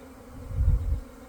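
A swarm of honeybees, just shaken out of a nucleus box, gives off a low, droning buzz that swells briefly and then eases, close and steady, with no voices.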